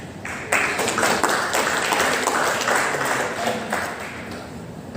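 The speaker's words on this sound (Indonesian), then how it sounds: "Tepuk tangan lagi, jangan meriah dulu dong buat kita" An indoor audience at an election and democracy seminar claps in a steady, dense patter for several seconds, fairly distant and even, with no talking over it.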